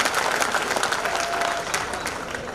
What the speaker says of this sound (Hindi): ताली बजा कर स्वागत करिए।